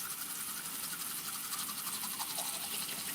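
A toothbrush scrubs steadily against teeth, a continuous bristly scraping that holds even and close for the whole stretch with no talk over it.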